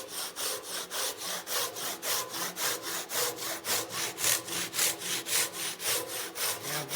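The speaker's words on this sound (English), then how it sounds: "I'm now going to position myself on the other side of the timber and saw along this line that I can now see." A Japanese hand saw cuts through timber along a marked diagonal line, with steady, rhythmic rasping strokes about three per second, close and clear, and no talking.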